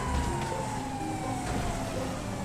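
A police car siren wails in GTA 5, a sweeping tone steady across the short stretch over a dense rumble of traffic and engine noise, with no voices.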